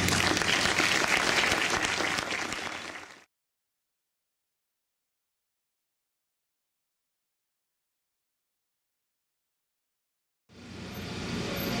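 Audience at a book presentation applauding loudly and steadily, the sustained clapping cut off by a long silence before the applause resumes.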